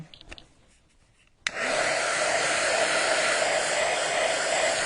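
A blow dryer dries a craft project, switching on abruptly after a quiet moment and then blowing with a loud, steady, close whoosh.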